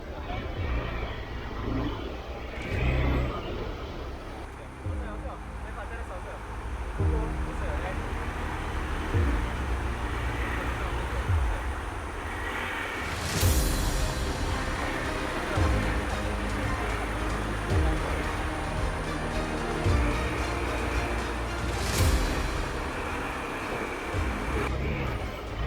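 A Hero Xpulse 200 motorcycle off-roading on a trail in Goa, engine droning and revving unevenly as the tire loses traction, with wind noise and occasional knocks over the rough ground.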